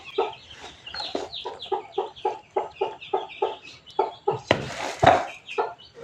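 Close-up chickens, including a hen that hatched eight chicks from fifteen eggs, giving a steady series of rhythmic clucks about twice a second, with a louder squawk partway through.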